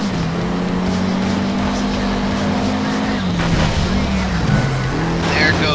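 Racing car engines roar continuously in the Need For Speed SHIFT video game, a steady loud drone shifting pitch as cars accelerate and change gears, with brief tire squeals near the end and a voice talking over the action.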